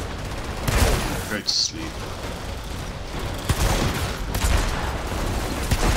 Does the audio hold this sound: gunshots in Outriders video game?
yes